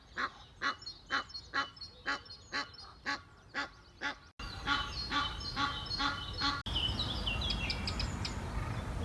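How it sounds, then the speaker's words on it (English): Egyptian geese honk repeatedly in a rhythmic series, loud and nearby, followed by more overlapping honks and calls against rising outdoor noise. "Egyptian geese are bold enough to cross a path."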